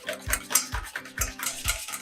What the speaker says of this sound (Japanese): 少しずつ 油をなじましていく感じで混ぜていってください